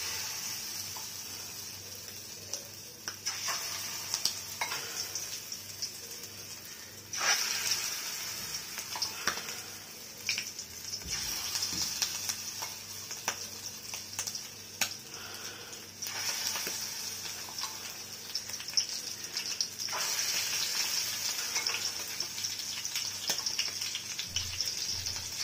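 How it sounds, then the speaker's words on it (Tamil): Prawns coated in egg and cornflour frying in a pan over a low flame, giving a continuous hissing sizzle with occasional bursts and small spatters throughout, close and moderately loud. "இதெல்லாம் நல்லா ஃப்ரை ஆகட்டும்."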